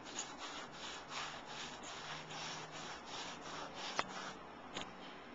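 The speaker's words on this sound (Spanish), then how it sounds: "Solo hay que pasar la esponja." A sponge loaded with light paint is rubbed over a painted vintage photo frame, giving a steady, close scrubbing swish with rhythmic strokes and a couple of sharp taps near the end.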